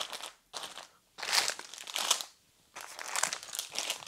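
Plastic bags of toy building bricks for a Fender Stratocaster model set crinkle and crunch in several loud bursts with short quiet pauses between, handled up close.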